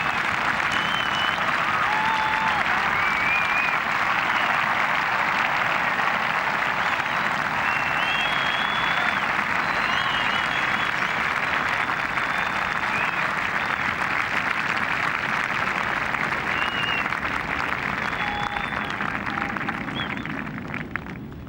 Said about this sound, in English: And applause for Rocca